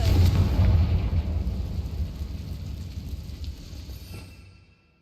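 A fiery Confringo spell blast in Hogwarts Legacy, a loud booming explosion with a long rumbling, crackling tail that slowly fades out over several seconds.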